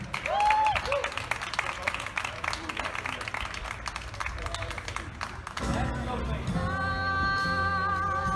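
An audience applauds for a singer with a scattered crowd clapping and cheering under a voice, before music with sustained tones takes over.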